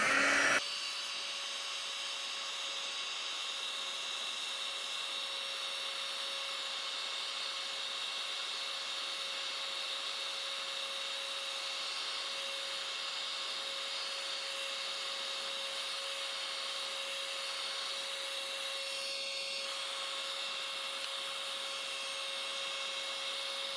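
A heat embossing tool blows hot air over a stamped piece as a steady, close whirring roar with a thin constant whine, running unbroken for about twenty-three seconds.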